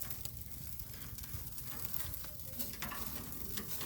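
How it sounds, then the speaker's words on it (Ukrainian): Fat sizzles and crackles while frying over an open fire outdoors, a faint, continuous spitting hiss with no talking. "Ну, бачиш, жирок гарить."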